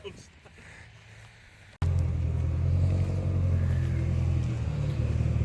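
An old classic car engine with dodgy oil catches abruptly and settles into a loud, steady low rumble close by, idling without pause.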